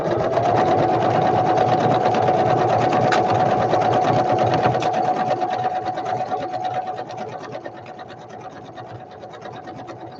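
Sewing machine stitching quilting on a flower basket piece, a rapid steady needle chatter up close that eases off slightly toward the end.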